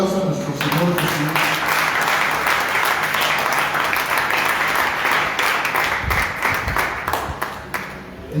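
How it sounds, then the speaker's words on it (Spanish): A congregation applauds loudly at a church service, a full, sustained burst of many hands clapping with a voice heard faintly beneath it, fading slightly toward the end. "Dale un fuerte aplauso a nuestro Señor Jesús."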